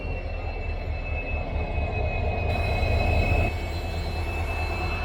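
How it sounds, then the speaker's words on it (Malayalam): A WDP-4D diesel locomotive shunts out at a railway station, heard as a steady loud engine rumble and hum with a high whine, continuous and fairly close throughout. "ഇവിടെ നമ്മുടെ ലോക്കോ ഷണ്ട് ഔട്ട് ചെയ്യായി."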